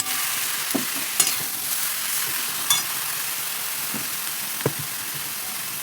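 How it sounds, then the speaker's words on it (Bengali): Pumpkin stalks and greens fried with black cumin in a pan, giving a continuous bright hiss of frying, with occasional sharp taps and scrapes as the greens are stirred. "এবার আমি ডাঁটা আর শাকটা ভালো করে আমি ভেজে নেব, ভালো করে কষিয়ে নিতে হবে।"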